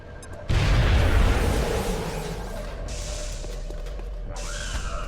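An explosion in the strategy game XCOM: Enemy Within bursts in suddenly as a loud, close boom, then decays into a long rumbling tail with lighter game effects layered over it.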